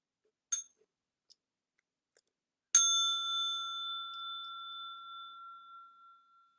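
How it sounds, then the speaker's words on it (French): A mindfulness bell is struck once during a group meditation gathering, a bright metallic strike that rings out and decays slowly over several seconds, preceded by a few faint clicks in otherwise quiet surroundings. "je vais inviter la cloche une dernière fois"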